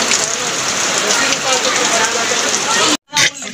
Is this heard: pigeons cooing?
no